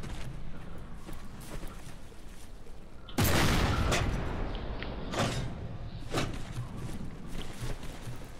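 Torpedo explosions hit a ship in the game From the Depths as heavy booms and crashing blasts, one big loud burst followed by several shorter thuds, with a rumbling background in between.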